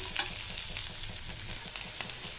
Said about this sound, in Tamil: இதில் நம்ம சோம்பு பட்டை லவங்கம் வெங்காயம் ஒரு மீடியம் சைஸ் போட்டிருக்கோம் இது கொஞ்சம் நல்லா வதங்கணும்